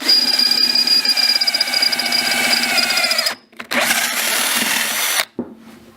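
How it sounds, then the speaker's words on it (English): A power drill whines loudly at high speed, drilling out metal rivets on a third-generation Camaro, pausing briefly twice before spinning up again. "So you're going to want to drill these out."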